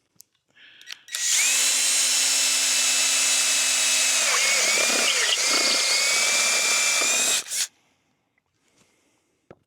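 Power drill fitted with a large step bit boring through material for a DIY fishing-sonar mount: a high, loud motor whine spins up, holds for about six seconds with the pitch dropping as the bit bites, then cuts off.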